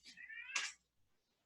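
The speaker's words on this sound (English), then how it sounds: "Oops, excuse me. That's my cat here." A house cat gives one drawn-out, rising-and-falling meow close by indoors, followed by a short faint chirp at the end, with no talk over it.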